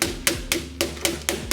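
Chicken breast pounded flat between sheets of parchment paper: six evenly spaced, fairly light thuds in a steady rhythm, close and distinct with nothing else heard.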